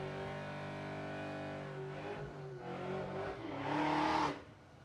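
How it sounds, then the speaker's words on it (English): A car does a burnout at a drag strip, a steady loud engine drone with tire noise rising into a harsher roaring surge near the end before dropping off, heard from trackside without talk. "We got someone doing a burnout"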